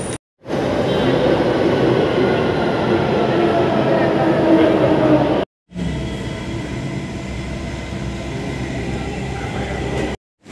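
Inside a moving Delhi Metro train, a steady loud rumble and whoosh of the carriage on the rails fills the ride, broken by two short silent cuts.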